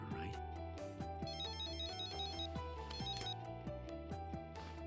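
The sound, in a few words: cell phone ringing in Death Note anime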